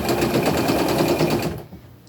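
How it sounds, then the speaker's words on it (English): A sewing machine stitches down a hand-gathered t-shirt fabric, a fast, steady mechanical whirring rattle heard up close that runs continuously and then stops abruptly near the end. "I'm just going to kind of hand gather it, stick it under there, and sew it down."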